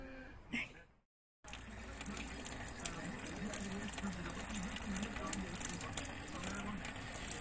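Running tap water gushing steadily in a village home, preceded by a brief voice and a short silent gap, then continuous splashing flow close by.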